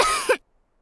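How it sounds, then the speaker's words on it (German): A cartoon pig character gives a single short, harsh cough that ends abruptly in silence, loud and close. "Petros Husten ist ansteckend"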